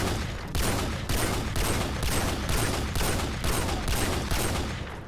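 Barrett .50 cal sniper rifle from Call of Duty: Future Warfare, firing in a steady run of about ten loud, evenly spaced heavy shots over five seconds. No voices.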